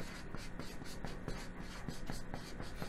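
Handwritten notes for a Korean history lesson, with steady, close pen strokes scratching across paper in a quick rhythm and a faint voice in the background.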